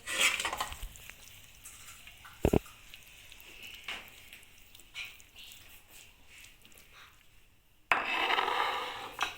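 Minced-meat keema with peas is mashed and stirred in a pan, giving soft scraping and squelching with a faint sizzle, a sharp clank of utensil on metal partway through, and a louder scraping stir near the end.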